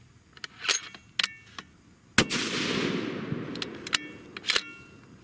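One loud, close 6.5 Creedmoor rifle shot fires a Hornady 100-grain ELD-VT handload. The sharp report rolls off into a long echo, and clicks and rattles of handling come before and after.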